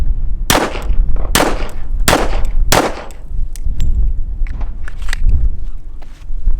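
A 1911 pistol fired at a shooting range: four loud, sharp, close reports spaced irregularly, followed by softer cracks and thumps under steady range ambience.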